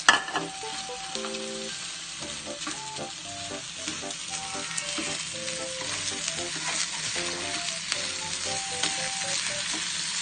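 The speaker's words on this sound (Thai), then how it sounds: "เลยเราเอาข้าวลงไปผัดต่อ" Rice is stir-fried in a pan for Thai fried rice, a continuous bright sizzle punctuated by quick rhythmic clanks and scrapes of a spatula against metal, close and steady with no voices.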